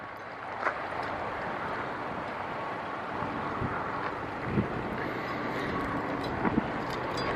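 Steady outdoor wind buffeting beside an RV, a Winnebago Micro Minnie 2108TB travel trailer, roaring broadly and continuously with a few brief gusty thumps against the microphone.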